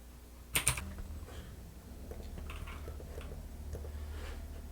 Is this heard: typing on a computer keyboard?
yes